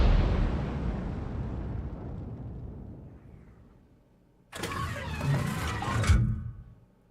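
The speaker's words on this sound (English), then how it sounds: "Okay, next round is in the chamber and fired straight away." A Bat.-Châtillon 155 58 artillery piece fires a round in a video game: a loud broadband blast followed by a long rumbling decay, then a second sharp, dense burst of report and debris noise.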